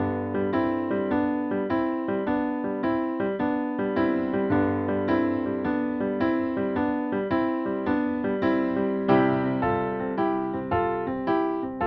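Piano plays a steady, bouncing blues chord pattern with a rhythmic low bass line, continuous and moderately loud throughout.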